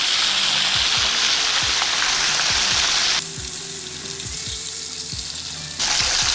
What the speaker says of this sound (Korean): 고기의 크기에 따라서 20초에서 30분만 튀겨내면 됩니다.